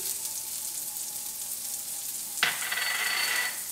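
Onion and celery drop into hot oil in a pan for a sausage and apple stuffed acorn squash, setting off a sudden loud sizzle midway that keeps crackling steadily to the end.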